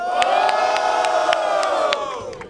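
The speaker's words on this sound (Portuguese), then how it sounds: "Barulho para as rimas de Tubarão!" A loud rap battle crowd at the grand final of the Batalha da Aldeia in Barueri cheers, whoops and whistles continuously, a dense wall of voices that holds steady before easing slightly at the end.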